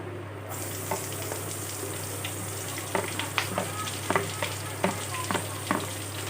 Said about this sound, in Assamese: আৰু এইখিনি এতিয়া মই ভালদৰে ভাজি ল'ম যেতিয়ালৈকে পিঁয়াজখিনি ৰঙচুৱা হৈ নাযায়